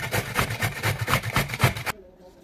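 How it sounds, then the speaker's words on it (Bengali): Carrots rubbed against a hand grater for carrot halwa, a quick run of rhythmic rasping scrapes, close and fairly loud, stopping abruptly near the end. "এরকম গ্রেটার দিয়ে আমি গ্রেট করে নিব গাজরগুলো।"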